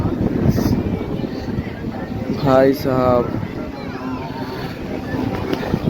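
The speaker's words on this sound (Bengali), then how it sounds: "হাওয়া দিচ্ছে তো বুঝতে পারছো, আওয়াজটা না আসতে পারে কেন, হাওয়ার আওয়াজটাই অধিক তো আসছে" Strong sea wind blows at a beach where the surf is rough and high. It makes a loud, constant roar over crashing waves, and a voice calls out briefly partway through.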